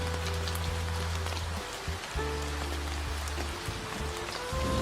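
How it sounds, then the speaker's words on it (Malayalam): The season's first rain in Bangalore patters steadily and evenly, with a low continuous electrical hum running beneath it that briefly drops out twice. "ബാംഗ്ലൂരിലെ സീസണിലെ ഫസ്റ്റ് റെയിൻഫോൾ കണ്ടു"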